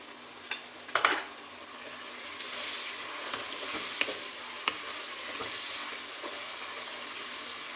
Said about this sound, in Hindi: 5 मिनट हो गए हैं चिकन को फ्राई करते हुए।